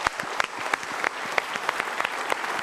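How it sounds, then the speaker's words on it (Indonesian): A studio audience claps steadily at a televised Indonesian motivational talk show, a dense, close burst of applause with no voices over it. "kita berikan tepuk tangan untuk mereka"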